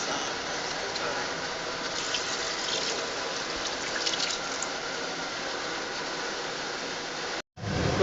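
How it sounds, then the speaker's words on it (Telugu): Water poured from a container into a pot of chicken curry, a steady continuous gush lasting several seconds with a brief break near the end, close and fairly loud. "వాటర్ కూడా పోస్తాం"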